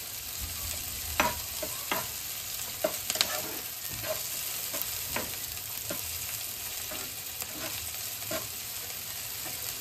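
Mixed vegetables and capsicum sauté in a hot pan, a continuous soft sizzle broken by repeated scraping stirs of a spoon at an irregular rhythm.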